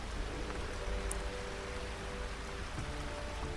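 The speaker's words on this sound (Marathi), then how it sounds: "पाऊस पण चालू आहे" Rain falls outdoors during a walk to gather wild greens, making a faint, even hiss with scattered drop sounds and no voices.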